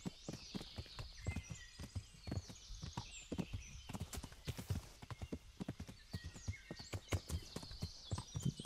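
Steady clip-clop of horse hooves at a brisk walking rhythm in the video game Kingdom Come: Deliverance, close and distinct, with a brief whinny partway through.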